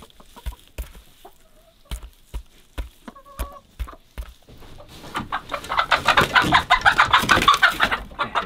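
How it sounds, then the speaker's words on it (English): Broody hens and other chickens cluck on a farm in Alaska in early spring, with sparse clucks at first building into a dense, loud chorus of overlapping clucks and calls close to the microphone. "We mentioned in the last video we had some broody hens and they're all doing good."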